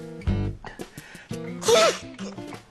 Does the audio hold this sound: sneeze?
yes